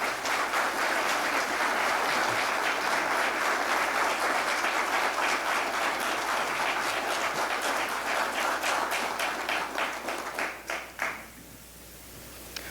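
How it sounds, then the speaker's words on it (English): An audience applauds a veteran, Sergeant Smith, at a museum event honouring local veterans: sustained, dense clapping that runs for about eleven seconds, then fades quickly to a quiet room with a few last claps. "Could we please offer a round of applause for Sergeant Smith?"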